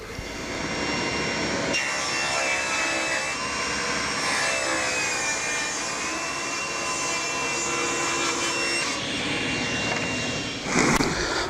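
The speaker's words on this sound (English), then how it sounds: "I'm just going to reset the table saw to 2 inches and cut a few strips" Table saw ripping wood into strips, a steady loud motor whine with a tonal hum, the blade's pitch shifting slightly as each cut goes through, the motor spinning down near the end.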